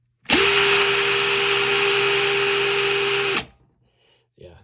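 Two Black & Decker cordless impact drivers whir together at full speed, a steady, loud high-pitched drone for about three seconds, then stop abruptly; a brief faint noise follows.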